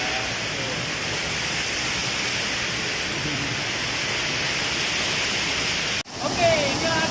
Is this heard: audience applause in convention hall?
no